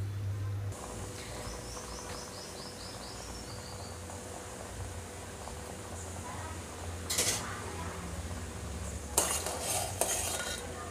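A spoon scrapes and stirs jaggery as it melts in a pan over medium flame, with a soft steady sizzle and a few sharp clinks of metal against the pan near the end.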